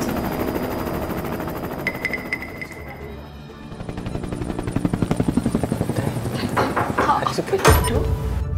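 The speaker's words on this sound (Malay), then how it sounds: "helikopter sudah ready. Boleh berdolar bila masa saja" A helicopter's rotor chop pulses steadily nearby, building into loud rhythmic thumping, with brief sharp clatters and voices in the background.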